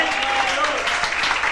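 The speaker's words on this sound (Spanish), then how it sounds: "Dele palmas al Señor." Church congregation applauding together during a sermon, a dense continuous wash of clapping that fills the whole moment at steady loudness.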